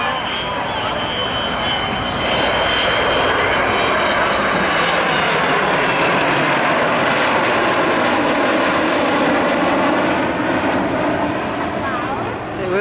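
Avro Vulcan XH558 bomber making a low-level pass at the Blackpool air show, a loud, continuous roaring jet rumble that swells and holds steady throughout, with crowd or commentary voices beneath the engine noise.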